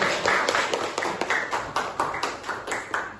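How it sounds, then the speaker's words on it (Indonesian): A classroom of pupils clapping their hands together in applause, close and lively, with rhythmic pulses of clapping that swell and ebb steadily for several seconds. "ya tepuk tangan"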